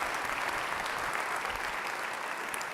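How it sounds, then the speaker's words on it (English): Sustained, even applause fills a university fall kick-off event, a broad wash of many people clapping at a steady level from start to finish without voices on top. "I want to give them a round of applause"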